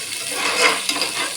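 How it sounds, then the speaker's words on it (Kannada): Capsicum, green chillies and onion frying in a pan for palak rice, a steady soft sizzle with light stirring scrapes, close and continuous for a moment, no voices. "ಇದೆಲ್ಲ ಫ್ರೈ ಆಗಲಿ."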